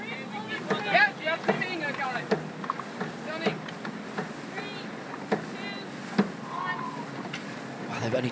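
A Volvo Ocean Race sailboat sails in a breeze just after a jibe at the Leg 7 start from Auckland, with wind buffeting, sharp creaks and clicks of gear, and voices talking on board.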